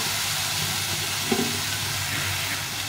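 Spices hit hot oil in a pan while cooking a mixed-vegetable khichuri, giving a steady, broad sizzle and hiss that runs unbroken throughout with one small bump midway.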